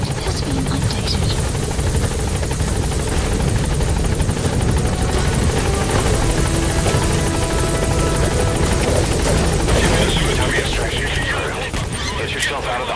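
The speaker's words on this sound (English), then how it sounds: "A support helicopter has arrived." Support helicopter arriving in the video game Metal Gear Solid V, a loud, steady rotor drone and engine buzz filling the whole stretch, with game sounds mixed over it.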